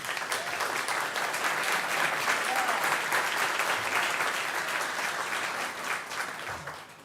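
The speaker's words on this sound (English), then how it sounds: "I usually don't get this big of a crowd, and I never get an applause" An audience at a city council meeting applauds with dense, steady clapping that holds at full strength for several seconds, then thins and fades at the end.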